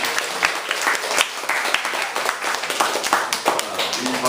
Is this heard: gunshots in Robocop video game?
no